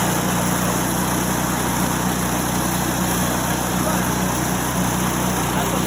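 Small snowblower engine running on a cold day just after starting with the choke still on, a steady near drone filling the clip without break.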